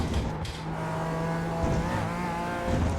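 A race car in a sim racing game, likened to a bigger, gruntier BMW M2, drones along with a steady buzzing engine tone and light tire noise. The sound is continuous and moderately loud, with no talking.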